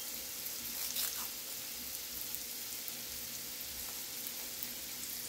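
Broccoli and garlic sautéing in a pan, a steady close sizzle and crackle running through the whole stretch with no talking.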